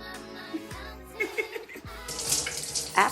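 Warm water gushes from a tap while an avocado hair mask is rinsed out, a steady close splashing stream that shifts as hands move through it, with a brief chuckle and muffled voice.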